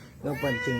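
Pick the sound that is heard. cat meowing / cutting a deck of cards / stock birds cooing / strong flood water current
cat meowing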